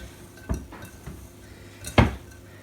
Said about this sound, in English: Sugar in, fruit in, give that a bit of a mix round.